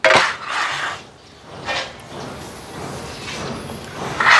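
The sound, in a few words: rustic stone body wall tiles being handled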